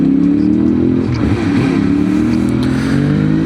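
A SRAD motorcycle accelerates with a jerky throttle, its loud, close engine holding a steady droning note that wavers and surges in pitch throughout.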